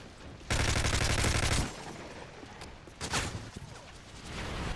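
A loud burst of rapid gunfire for about a second, then scattered shots and game sound effects with background noise, from Call of Duty: Modern Warfare 3.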